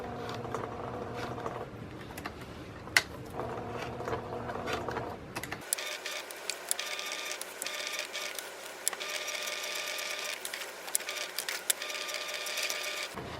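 A sewing machine stitches a scout patch in quick, even bursts, with short pauses as it stops and pivots around the narrow embroidered edge, close and fairly quiet.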